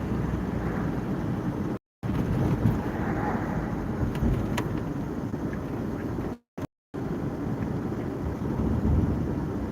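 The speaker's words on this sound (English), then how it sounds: "It's a nice day, windy, that's all" Wind blowing outdoors on a nice day, a steady loud buffeting rumble across the microphone, briefly cutting out a few times, with no one talking.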